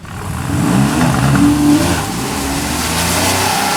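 Loud engines roar as Porsche sports cars launch and accelerate hard, revs climbing steadily and then holding a strong steady drone, close by with no talking.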